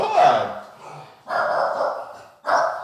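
A person imitates a dog, barking in three loud, voiced bursts close to the mic, each followed by a short pause.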